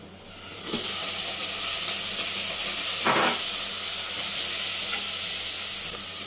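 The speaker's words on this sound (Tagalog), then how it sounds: "ihulog na natin ang ating chicken liver" Chicken liver hits a hot pan with onions for adobo and bursts into a loud, continuous sizzle and hiss that swells after the drop and holds close and steady, with no talking.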